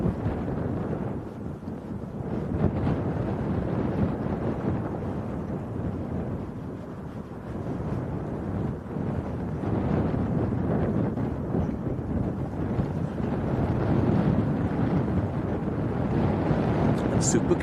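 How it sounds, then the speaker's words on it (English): Steady, roaring wind at Leeds Bradford Airport buffeting the microphone, a broad, continuous rumble that grows slightly stronger over time. "is it getting windier?"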